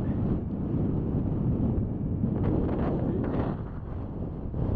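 Strong wind buffeting the microphone at a mountain bivouac in Norway, a continuous low roar with gusty swells and no other clear sounds.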